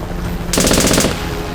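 A short burst of rapid machine-gun fire as a sound effect in a staged action skit, about half a second of loud, evenly spaced shots standing out over a steady background hum.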